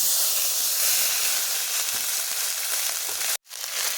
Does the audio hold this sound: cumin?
yes